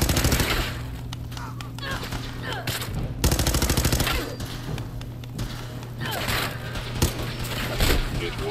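Gunfire in the video game Fallout 4, with repeated rapid bursts and shots echoing over a steady game background, loud and close, while a player talks now and then.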